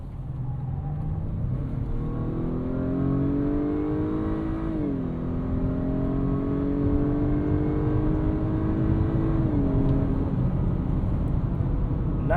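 A 2025 Acura RDX A-Spec Advance SUV with a turbocharged K20 engine accelerating in sport mode, its engine drone rising steadily in pitch, then dropping with each upshift of the automatic transmission, heard continuously from inside the cabin.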